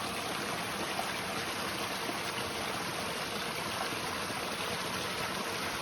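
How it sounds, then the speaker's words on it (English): A small stream flows over stepping stones on a hiking trail, producing a constant close rushing and trickling wash of water with no voices. "Nice little stream."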